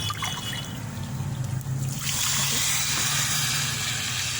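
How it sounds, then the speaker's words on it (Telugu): Water pours steadily into a pot of ghee-roasted green gram and rice for pongal, a loud continuous gushing trickle that swells and brightens midway, with no talk. "ఈ గ్లాస్తో ఎనిమిది గ్లాసులు పోసుకున్నామండి"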